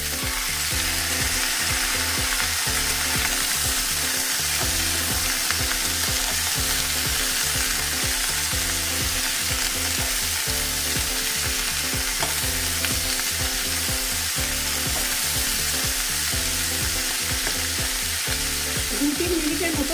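Green peas fry over high flame in a wok for a carrot and beetroot mixed vegetable curry, with a steady close sizzle and repeated scraping strokes of stirring throughout, no voices.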